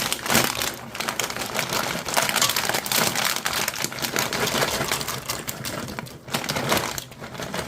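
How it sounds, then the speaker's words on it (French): Pasta being added to a pot of hot water for a bolognese meal makes a dense, close clatter and crackle, rattling continuously with brief dips in loudness. "je rajoute mes pâtes maintenant à l'intérieur"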